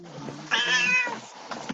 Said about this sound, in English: Just the cat.